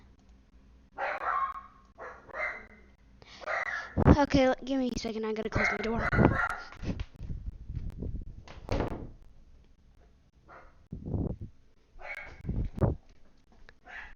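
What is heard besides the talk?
dog barking loudly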